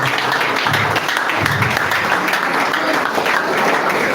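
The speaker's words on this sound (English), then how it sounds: "Please, a round of applause as we are welcoming that to the program." A loud, sustained round of applause from a large seminar and foundation-launch crowd, dense continuous clapping filling the room from start to finish.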